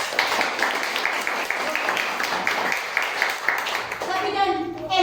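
A church congregation clapping hands during a Sunday service, dense rapid applause from many people, fairly loud and close, continuing steadily and tapering off at the end.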